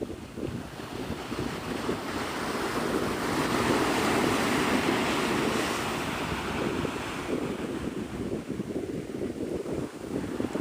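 Ocean surf and steady wind at Navarre Beach, Florida, a continuous broadband wash of breaking waves with wind buffeting the microphone, no voices.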